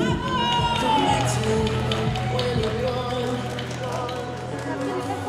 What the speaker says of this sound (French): Faites du bruit pour lui.